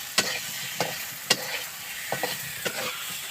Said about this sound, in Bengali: এই যে আমাদের আলু ভাজা হচ্ছে